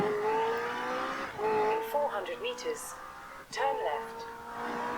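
A racing car engine in Forza Horizon 4 revs and shifts pitch repeatedly, rising and falling in tone, with brief tire squeals, running steadily under someone talking.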